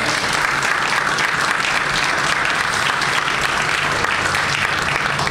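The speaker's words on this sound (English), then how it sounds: "Yeah, you can clap on that one." An audience at a fireside chat with a candidate breaks into dense, continuous applause that stays loud and even throughout, with no talk over it.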